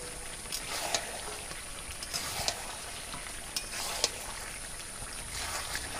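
Fried potatoes tumble into a pan of braised goose meat, giving a steady low sizzle with scattered scraping and clinking stir strokes close by, no voices.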